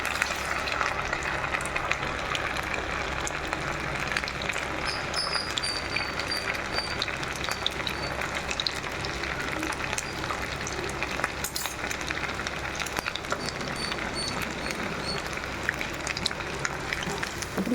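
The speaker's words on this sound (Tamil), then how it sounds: "நல்லா எண்ணெயை சூடு பண்ணி சிம்மில் போட்டுக்கோங்க" Sardines frying in hot oil over low heat give a steady, dense sizzle and crackle that holds at an even level throughout, with no voices.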